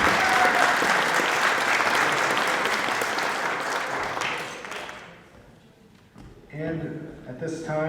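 An audience at a Green New Deal town hall applauds youth leadership with loud, dense clapping that gradually thins and fades over several seconds before a voice begins speaking near the end.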